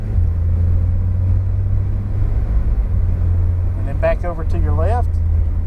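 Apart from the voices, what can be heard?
Porsche engine accelerating on a track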